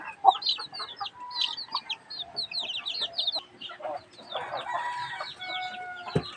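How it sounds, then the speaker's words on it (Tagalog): Small chicks peep in a rapid, high chatter as they are fed, with a louder clucking hen and a crowing rooster mixed in nearby, moderately close and continuous. "papakainin natin to yung maliliit natin na sisiw"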